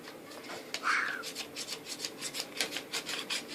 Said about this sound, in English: then to make it flap, pull the wings down, hold the neck there, then just pull like